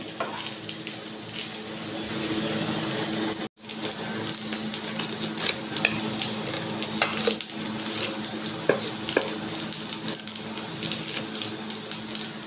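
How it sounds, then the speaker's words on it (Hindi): Cooked rice being stir-fried in a pan for chilli garlic fried rice: a steady, rushing close sizzle with scattered stirring scrapes, briefly cutting out near the start before resuming. "चावल को हमने अच्छे से मिक्स कर लिया है इसको दो मिनट हम भून लेंगे"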